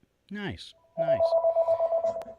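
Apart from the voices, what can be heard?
mobile phone ringtone ringing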